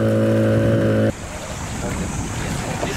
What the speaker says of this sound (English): luck intervenes and the engine splutters to life again